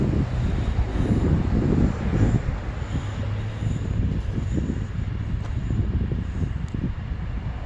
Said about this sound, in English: Look at all these flags waving in the wind.